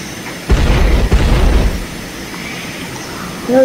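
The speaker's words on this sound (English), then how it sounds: "It was me breaking the sound barrier." A sonic boom from an F-4 Phantom jet breaking the sound barrier in a flight simulator game: a sudden loud blast followed by a heavy rumbling roar that fades over about a second, with quieter engine noise afterward.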